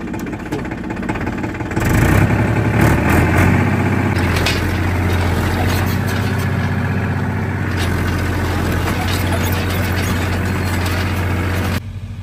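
Tractor engine in a farm field during ploughing, starting quieter and then roaring up into a loud, steady, throbbing drone close by that holds for about ten seconds before dropping off abruptly.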